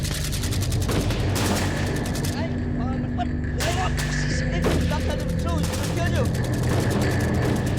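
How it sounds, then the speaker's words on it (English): Film gunfire keeps up throughout as dense automatic bursts and rapid shots, loud and continuous with a short lull in the middle, mixed with soundtrack noise and a shouting voice. "Stop shooting!"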